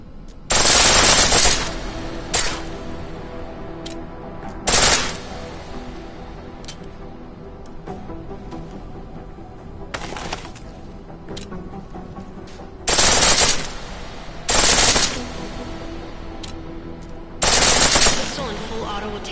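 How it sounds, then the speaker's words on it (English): Full-auto pistol fire from Deus Ex: Mankind Divided, delivered in six or seven short, loud bursts spread over about twenty seconds with quieter gaps in between and no voices. "Pistol in full auto will take down targets fast, but it'll burn through your ammo"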